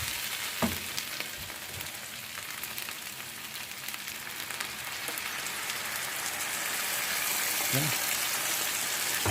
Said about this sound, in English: we're going to add a little bit of the chicken broth